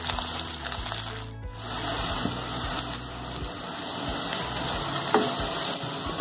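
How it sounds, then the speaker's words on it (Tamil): Onions sauté in a pan with a continuous, fairly loud sizzle and the occasional stir, over a low background hum. "இப்போ வெங்காயம்லாம் நல்லா வதங்கியிருக்குங்க."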